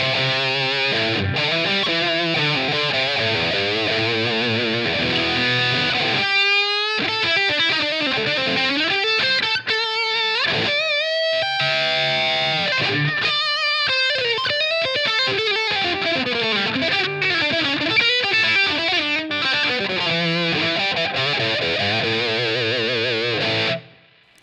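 Electric guitar played through a Rev Gen Red pedal with reverb and high and low shelf EQ engaged, giving a loud, distorted tone with sustained chords and melodic runs for about twenty-four seconds, no voice over it.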